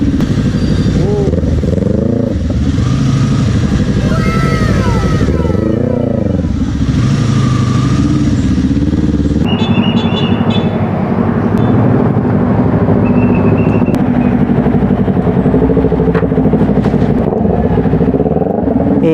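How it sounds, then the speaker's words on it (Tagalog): A Yamaha R3 motorcycle engine runs loud and close, its revs sweeping up and down in repeated rises and falls, with a steady throbbing drone between and some clatter; a rider's voice is heard over it. "Iingay ng motor."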